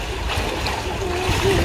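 A child splashes in an outdoor swimming pool in Spain, making scattered nearby splashes and water sloshing, with a voice faintly in the background.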